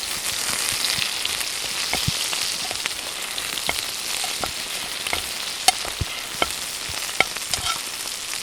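Butter sizzles as a big chunk melts in a hot pan beside a steak, cooked outdoors under a tarp shelter in the rain, a steady close crackle with scattered sharp pops.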